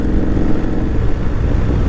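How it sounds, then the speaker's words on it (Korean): A modified 2012 Harley-Davidson Street Glide Special, fitted with an engine of about 120-130 cubic inches in place of the stock 103, idles with a deep, loud, close rumble that stays steady throughout. "도니 형님의 중고지만 새로 산 할리 데이비스 스트리트 라이드 스페셜"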